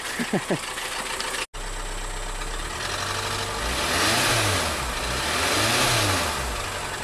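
A VW Tiguan engine with suspected low oil pressure, driven for diagnosis, revs up and falls back in two loud swells after a brief cut, with a steady running drone beneath and a few faint voice sounds at the start.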